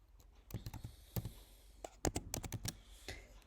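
A security code typed on a computer keyboard: a quick, uneven run of close, soft key clicks in a quiet room.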